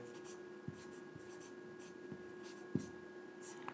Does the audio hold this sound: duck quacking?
no